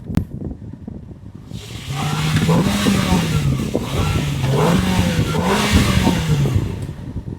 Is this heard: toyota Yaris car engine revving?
yes